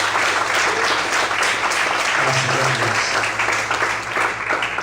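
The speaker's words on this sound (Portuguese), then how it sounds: "Você pode desocupar a sua mão e aplaudir ao Senhor com muita alegria." A church congregation claps steadily and loudly in praise during a service, a dense, sustained round of applause that fills the hall.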